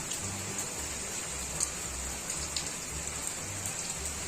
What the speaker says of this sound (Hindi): और देखिए कितनी तेज़ बारिश हो रही है ना